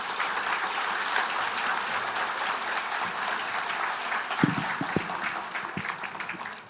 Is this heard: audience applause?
yes